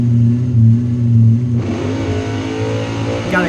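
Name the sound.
drag race car launching from staging, wheels up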